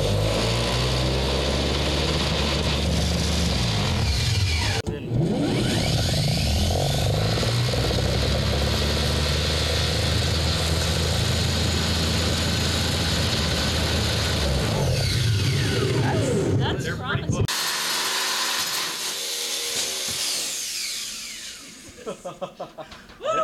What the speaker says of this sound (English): So we have it hooked up to a drill right now